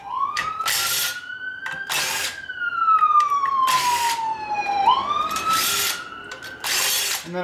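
Ambulance siren wails in a long, slow rising and falling sweep, loud and close, while sharp ratcheting mechanical bursts repeat over it at irregular intervals.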